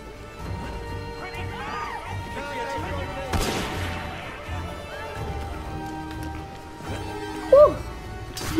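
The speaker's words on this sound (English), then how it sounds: "Oh no, they're shooting me" Enemy gunfire in the video game Assassin's Creed Unity, with sharp shots and crashes breaking through a busy battle mix, one loud burst near the end, under game ambience.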